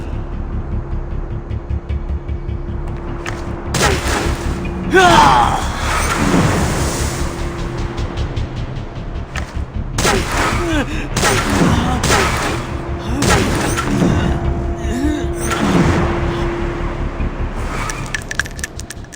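Gunshots from the Dragon Raja video game burst out amid dense game audio, several sharp reports spread through the scene over a steady musical and ambient background, with a voice speaking briefly.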